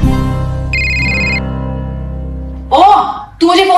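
A phone ringtone sounds in a brief electronic burst during a Hindi short film, amid a voice and other indoor sounds.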